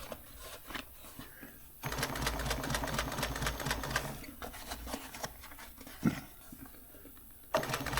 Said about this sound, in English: I can't sew and talk at the same time.